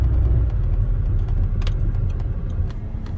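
A Porsche 356 convertible rolling past on a San Diego street, a steady low engine rumble with road noise heard close and fairly loud, no voices over it.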